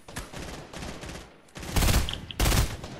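Rapid bursts of automatic gunfire in the video game Fortnite, two heavy volleys following lighter shots, loud and close with brief pauses between.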